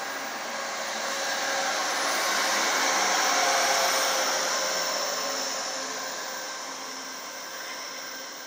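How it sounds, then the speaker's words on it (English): Amtrak 720 passenger train passing at Davis, a broad steady rushing roar that swells gently toward the middle and slowly fades, heard from a moderate distance with no talk. "That's Amtrak 720."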